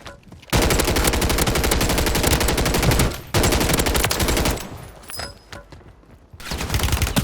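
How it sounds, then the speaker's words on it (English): Rapid automatic gunfire from a video game, loud and sustained in long bursts with brief pauses between them, no talk over it. "I like this gun."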